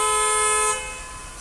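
A steady car horn blares close by, holding one long tone before easing slightly, over low traffic rumble.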